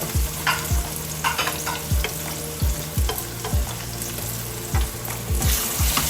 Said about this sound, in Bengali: এখন আমি এতে অ্যাড করে দিব আমার মাংসগুলো রান্না করা মাংসগুলো